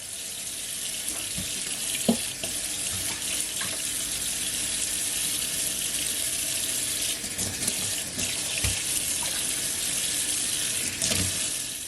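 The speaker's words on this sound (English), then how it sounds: "Gonna wash with some warm water." Steady stream of warm water running from a kitchen tap into a sink, with occasional clinks and splashes, fairly close.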